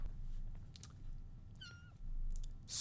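A kitten gives one brief, close meow, faint over a low background hum, with a few soft clicks around it.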